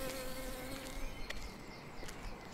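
Bees buzzing in a steady, continuous drone that stays at an even level throughout, with faint higher clicks and chirps scattered over the hum and no talking.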